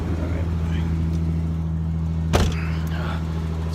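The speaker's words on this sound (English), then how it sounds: "I'm warming up my car so I don't have to freeze my rear end off on the way there." A car engine idles steadily while warming up early on a cold morning, a constant low hum with one brief louder knock or clunk partway through.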